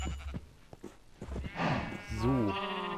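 Sheep bleating in the video game Minecraft, a short wavering bleat near the end preceded by another animal call, with a person talking over the first half.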